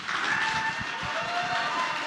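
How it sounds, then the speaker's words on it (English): A demo day audience applauds, a dense wash of clapping hands that stays steady and moderately loud from start to finish. "So want to give them a big round of applause for all the work they're doing"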